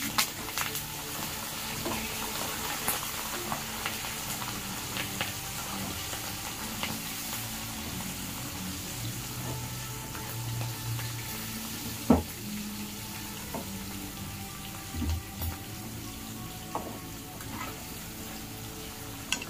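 Green chillies fry in a pan for a flattened rice dish, giving a steady moderate sizzle with occasional sharp pops and crackles over about twenty seconds, close and continuous with no talk.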